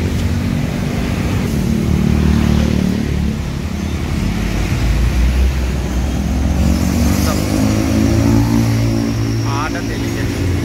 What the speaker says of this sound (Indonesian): Lalu lintas Cikokol ini padat. Bus-bus yang melintas udah ramai.